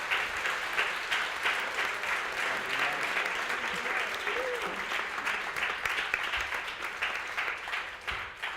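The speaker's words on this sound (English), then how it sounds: "I would like to ask you a big applause for all of them" Dense, sustained applause from a conference audience at an eTwinning closing session, many hands clapping steadily from start to finish with no break.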